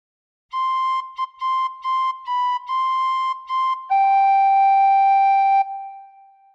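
A tin whistle plays a melodic phrase: a quick run of short, separate notes, a couple of brief pitch shifts, then a long held lower note that eases off into a quiet fading tail, played solo.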